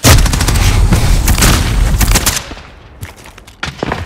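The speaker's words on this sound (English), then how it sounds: "Throwing grenade." Loud, close gunfire and booming blasts in Call of Duty Modern Warfare run as a dense burst that fades, then returns as a few sharp shots.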